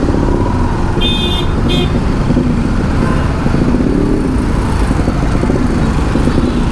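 A Bajaj Pulsar NS200 motorcycle engine runs steadily at idle, close and loud, amid road noise with a couple of short horn toots, no talking.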